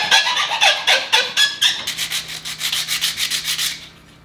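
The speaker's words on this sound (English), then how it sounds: "I just usually put it in my vise and then I'm gonna sand it all down while it's straight to make it easier" A cut piece of aluminum clamped in a vise is sanded by hand in quick, rhythmic back-and-forth strokes, close and fairly loud, the scraping growing denser midway before trailing off; no talking.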